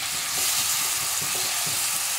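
Three chopped ripe medium tomatoes go into spices frying in a pan, giving a steady, close sizzle with faint stirring scrapes and no talking.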